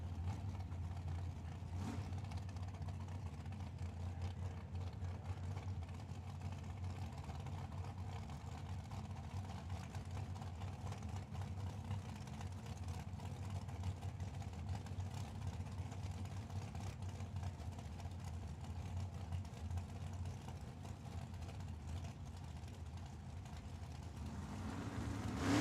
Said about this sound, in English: Making his second hit in his Roadster.